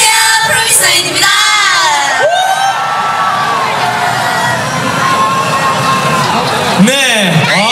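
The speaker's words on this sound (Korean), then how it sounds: "환호가 너무 뜨겁네요" A large crowd at a public broadcast at the Everland theme park cheers, shouts and whoops loudly throughout. The cheering is close and dense, with an amplified voice and music mixed into it.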